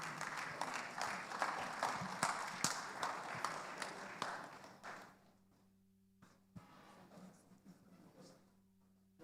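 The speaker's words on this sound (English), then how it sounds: "Can we have another round of applause" Audience applause at an international conference and annual general meeting: dense, loud clapping fills the room for about five seconds, then quickly thins out to a few scattered claps over a quiet hum.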